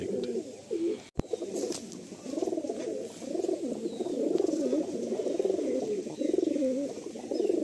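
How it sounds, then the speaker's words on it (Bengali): Madrasi pigeons coo steadily in a loft, a continuous close chorus of low rolling calls with one sharp knock early on and faint background hum. "এই যে এক পেয়ার পায়রা দেখো"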